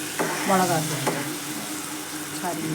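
Ground spices such as Kashmiri chilli, coriander and turmeric powder sizzling and being stirred in a hot pan, a steady close frying hiss with a few spoon scrapes across the pan, no speech over it.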